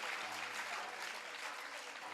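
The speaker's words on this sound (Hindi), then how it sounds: "बहुत जोरदार तालियां दें।" Applause from a school arts festival drama audience, a faint, distant wash of many hands clapping steadily without pause.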